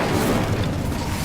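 An Incendio fire spell cast in Hogwarts Legacy on PS5, a dense, rumbling burst of fiery roar and low booming that sustains loudly throughout with no talk over it.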